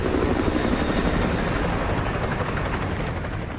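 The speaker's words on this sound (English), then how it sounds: "Chopper inbound. Keep low." Helicopter rotor thudding steadily overhead during a Modern Warfare 2 campaign mission, a loud, continuous chop that dominates throughout and fades only slightly near the end.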